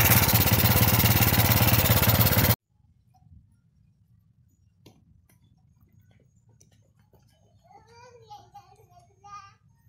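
A long-dead Suzuki Smash motorcycle, just revived, runs loudly with a fast rhythmic chatter for about two seconds, then cuts out, leaving faint ticking and distant background noise.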